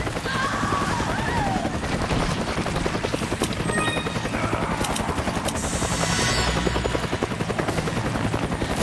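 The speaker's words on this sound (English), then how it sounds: "I can hear gunfire." Rapid bursts of gunfire in the game Resident Evil 5 crackle amid a constant thudding helicopter rotor and dense battlefield noise, loud and chaotic throughout.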